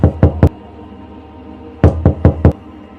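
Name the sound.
knocking on a room door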